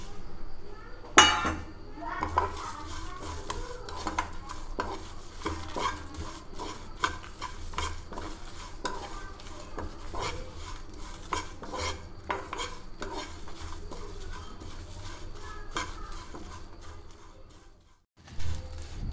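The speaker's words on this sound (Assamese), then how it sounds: "জলকীয়া পাঁচফোৰণ দি মই 2 মিনিট ভাজি ল'ম" Whole spices with cumin, dry red chillies and panch phoron being stirred and dry-roasted in a pan for mango pickle, giving repeated scraping clinks of a spatula against metal with a faint background sizzle.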